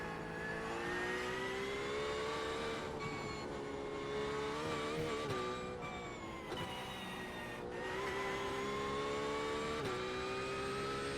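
A race car engine at the Charlotte Roval road course, loud and continuous, its pitch climbing and dropping through repeated gear changes, with two sharp breaks where it shifts before revving up again.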